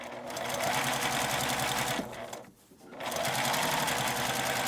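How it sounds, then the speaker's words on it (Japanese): A sewing machine runs steadily, stitching the lining fabric of a drawstring bag. The dense motor whir pauses briefly near the middle, then resumes at the same close, even pace. "反対側も同じように裏布を中表に合わせて1センチ縫って端ミシンをかけます"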